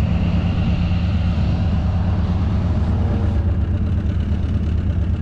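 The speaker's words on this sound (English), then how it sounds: "Tugboat." A tugboat engine passing on Coos Bay, heard as a steady, loud low-pitched rumble with broad wash and water noise that holds unchanged throughout, no voices.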